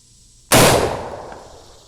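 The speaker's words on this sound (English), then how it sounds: "This here is the Winchester 1886. You notice I sit down for this shot." A single loud, close rifle shot from a Winchester 1886 in .50-110 fired from a seated position at a ballistic gelatin block, a sharp crack followed by a long rolling decay.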